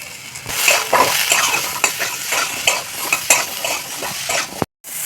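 Small cut potato pieces seasoned with salt and turmeric fry in a pan, a close crackling sizzle punctuated by repeated scraping and clinking of a spatula, then a brief silent gap near the end.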